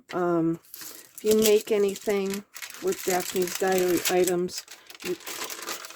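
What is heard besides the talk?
paper crumpling and rustling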